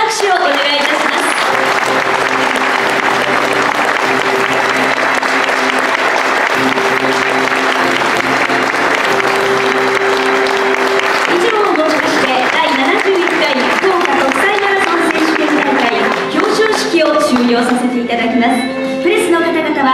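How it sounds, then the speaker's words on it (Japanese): Sustained applause from a seated audience at the prize-winners' ceremony of the 71st Fukuoka Marathon, a steady dense clapping that fills the room for about twenty seconds before thinning into scattered claps and voices. "入賞されました選手の皆様に今一度盛大な拍手をお願いいたします。"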